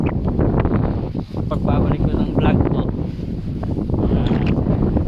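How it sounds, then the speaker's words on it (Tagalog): Strong gusting wind buffets the microphone at Capayas Dam ahead of an approaching storm, a loud continuous roar throughout under someone speaking. "ang lakas ng hangin. Kasi may paparating na bagyo."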